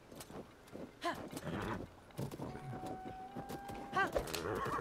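Horse hooves clip-clop in Zelda: Tears of the Kingdom, steady clopping with a whinny, under game sounds and some talk.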